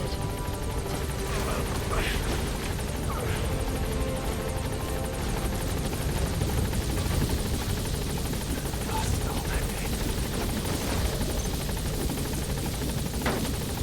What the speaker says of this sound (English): Just gotta wait for this helicopter to depart. Gaining altitude.